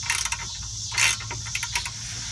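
A ratchet working on drive shaft bolts of a twin-turbo Camaro gives quick clicking bursts and metallic rattles close by, with short pauses between strokes.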